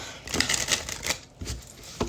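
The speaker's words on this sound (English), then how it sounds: "Quick little shuffle." Tarot cards being given a quick shuffle, a run of soft papery riffling flutters close by with no talking.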